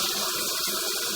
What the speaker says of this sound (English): I'm going to turn off the water, drain everything out.